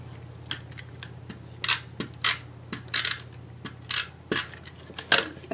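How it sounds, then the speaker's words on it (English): A star punch cuts shapes from scraps of Dazzling Diamonds glimmer paper, giving a series of sharp, close clicks and crunches at an irregular pace, loud against a steady low hum. "grab your scraps of the Dazzling Diamonds glimmer paper and your star punch. Punch out a star."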